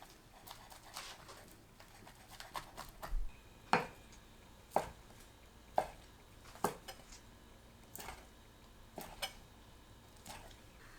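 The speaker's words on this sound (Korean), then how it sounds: "계란을 한 입 크기로 썰어주세요." A kitchen knife cuts a pan-fried egg into bite-size pieces on a board, giving a run of faint, sharp taps at an uneven pace over quiet background.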